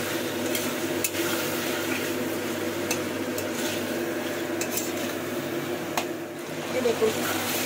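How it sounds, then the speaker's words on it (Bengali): Potato and onion frying in oil in a home kitchen pan, giving a steady close sizzle throughout with occasional light scrapes and clicks of a stirring spoon. "আলু পেঁয়াজটা একটু ভাজা ভাজা হয়ে গেছে"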